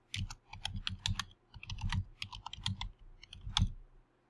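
Someone types on a computer keyboard, a close, quiet stream of irregular key clicks in short bursts with brief pauses between them.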